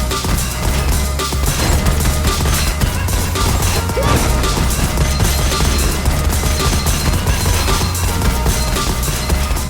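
Gunfire in the shooter game Gunfire Reborn, including an Illusion shotgun, as dense continuous in-game combat: rapid overlapping blasts, impacts and crashes at a steady loud level over background game music.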